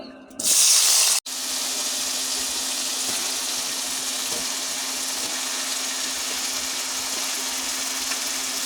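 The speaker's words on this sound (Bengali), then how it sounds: "তেল গরম হয়ে গেছে, এখন আমি আলু আর কলা একসাথে দিয়ে দিব।" Potato and green banana pieces hit hot oil in a pan with a sudden loud sizzle after a brief quieter moment, then a steady, close crackling hiss that continues without talk.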